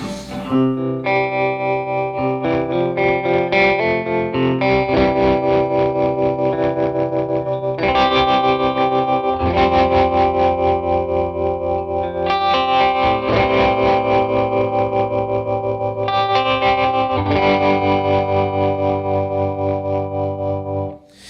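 Sustained electric guitar chords through a two-speed tremolo pedal, with a pulsing, swirling tremolo mimicking a rotating speaker that speeds up and slows down, played continuously with a few chord changes.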